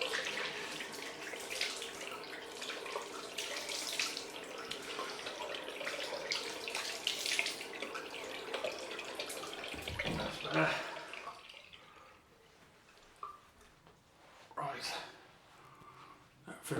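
Tap water running into a bathroom sink for a cold face rinse after a wet shave, a steady close splashing stream that stops partway, followed by quieter drips and handling noises.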